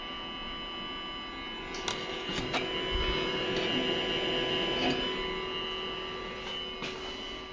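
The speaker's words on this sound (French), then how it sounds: "Le bruit est infernal pour un ventilateur" A steady, noisy whirring hum runs throughout from the air purifier fan of an Apex Maker X1 3D printer, with a few faint ticks and clicks over it.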